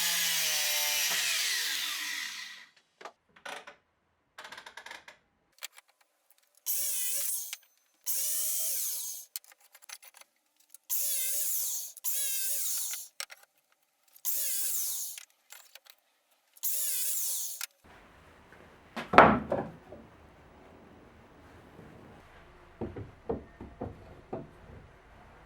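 Power saw cutting wooden beams, reused from a loft bed frame, down to 70 cm lengths for desk legs: a series of loud, even bursts of whining, separated by short pauses, then a sharp knock and scattered clatter toward the end.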